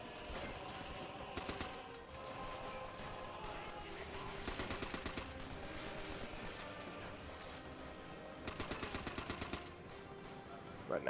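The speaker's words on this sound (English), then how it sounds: "someone was shooting at me this time" Gunfire in Call of Duty: World at War comes as short automatic bursts at intervals over a busy, faint background of battle noise.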